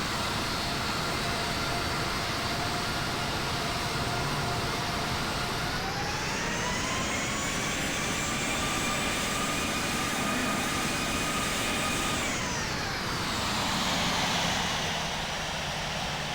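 A simulated airliner taxis toward runway 4 right in the Infinite Flight simulator, a steady jet engine whine and rumble holding throughout with the pitch gently rising and falling twice, moderately quiet and alone.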